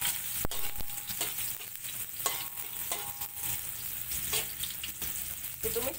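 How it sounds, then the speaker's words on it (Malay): Ingredients for bitter gourd with egg and chili stir-fried in a pan, a steady loud sizzle and crackle with occasional sharp clicks of the spatula against the pan, close up and without talk. "Okey, ni kita tumis."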